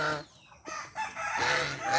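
Chickens crow and cluck close by, a drawn-out crowing call rising and falling with fowl chatter around it.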